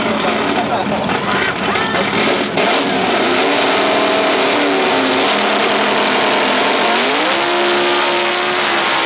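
Formaster Ford drag racing car roaring loudly as it accelerates down the strip at Atlanta Dragway, sustained engine howl with rising pitch through the whole run, close and dominant over crowd noise.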